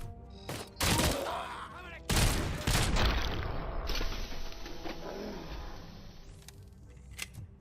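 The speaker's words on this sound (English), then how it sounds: "SMG seems like a pretty practical weapon, though. The 9mm, not the" Bursts of 9mm submachine gun fire in the video game RoboCop: Rogue City, loud and close, in several clusters over the first few seconds and then fading into a lingering tail with a faint hiss.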